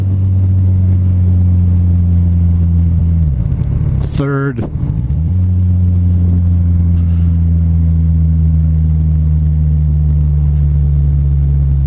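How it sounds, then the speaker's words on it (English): Kawasaki Z1000 motorcycle engine braking on a downshift, a steady low droning engine note that dips and rises around a brief gear change, with someone talking over it. "Notice we're in 5th, 4th. There is engine braking."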